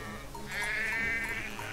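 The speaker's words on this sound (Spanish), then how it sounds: "Se mueven las ovejas." Sheep bleat in the Valiant Hearts: The Great War video game, one drawn-out wavering bleat rising over soft background game ambience, fairly close and alone.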